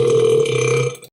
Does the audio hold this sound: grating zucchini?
no